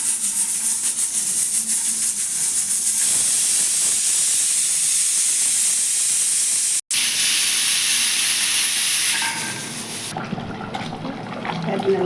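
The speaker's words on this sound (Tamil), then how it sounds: "குக்கர் விசில் போட்டு ஒரு 10 நிமிஷம் வேக விட்டுடலாம்." Loud, steady steam hissing from a pressure cooker cooking mutton gravy runs for most of the stretch, then thins and tapers off near the end.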